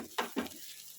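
Telangana-style sarvapindi, a bottle gourd and rice flour flatbread, fries in a pan with a faint, short sizzle broken by two quick scraping bursts as it is turned.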